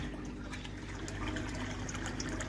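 Water from an aquaponics fish tank circulating into a center drain and down to a sump, making a steady, close trickling and gurgling flow.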